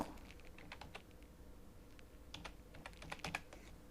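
Light, quick clicking of a computer keyboard as text is typed for an Instagram post design, irregular clusters of keystrokes heard close and quiet with no talk.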